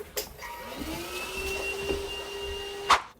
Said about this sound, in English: This is a Hoover, and you hoover the floor using it. Now, I should probably keep hoovering.